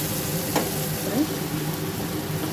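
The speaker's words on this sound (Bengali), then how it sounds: "সেদ্ধ করে রাখা ডালটা এর মধ্যে দিয়ে দিলাম" Boiled chana dal dropped into sizzling masala in a pan, a continuous close frying hiss with faint stirring scrapes.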